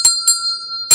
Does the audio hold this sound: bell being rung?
yes